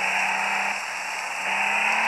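A car engine in sport mode drones steadily at close range, a sustained hum with a slight dip in the middle, with no voices.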